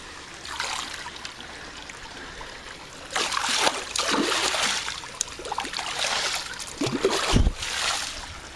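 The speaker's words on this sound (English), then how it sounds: "Now I need to add about 4 ounces of Polyquat 60." Algaecide (Polyquat 60) poured into swimming pool water, about four ounces, giving soft splashing and trickling that swells in two bursts midway and near the end, close and fairly quiet with no talk.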